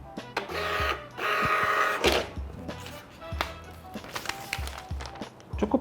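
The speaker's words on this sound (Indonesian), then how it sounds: "tunggu sampai dia melakukan tes print." An Epson T81 III thermal receipt printer runs a self test print, whirring in short mechanical bursts with feed pauses and clicks in between, close and fairly loud, with no voices.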